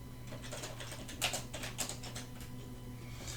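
Soft computer keyboard typing, a short run of light clicking keystrokes over a steady low electrical hum, with no speech.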